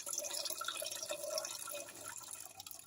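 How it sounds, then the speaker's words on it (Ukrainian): Pickling liquid draining from a jar while canning tomatoes, a steady trickling, dripping pour that runs continuously and close, tapering off slightly toward the end. "Рідину злила."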